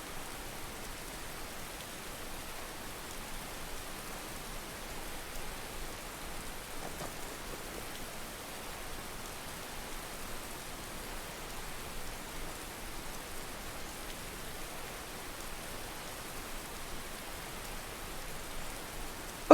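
Steady rain falls throughout a Skyrim game scene, a continuous even hiss of drops with no speech over it.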